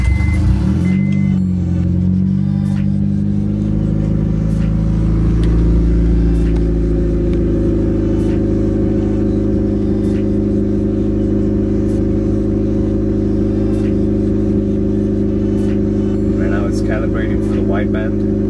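A car with an open downpipe starts up, then settles into a loud, steady idle that drones on close by without a break, with a few light clicks and a faint rattle near the end.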